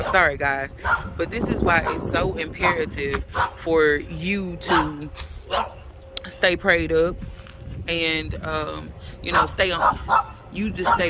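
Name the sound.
neighbor's dog barking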